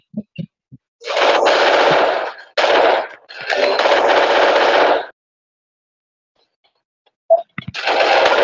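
Video game gunfire: long loud bursts of rapid automatic fire broken by short pauses, a few single shots, then a stretch of near silence before firing resumes.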